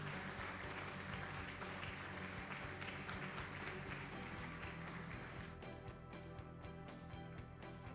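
An audience gives sustained, dense applause welcoming President Muhammadu Buhari at the U.S.-Africa Business Forum, a steady wash of many hands clapping that holds evenly for the whole span, thinning only slightly toward the end.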